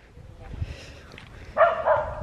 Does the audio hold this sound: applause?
no